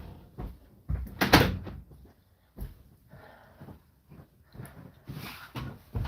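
A few sharp knocks and thumps of a door being shut, with a bang near the start and softer bumps and rustling after, up close.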